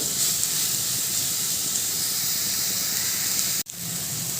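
Sliced pointed gourd (potol) frying in hot oil gives a steady, loud sizzling hiss throughout, with a brief dip near the end, and no talking.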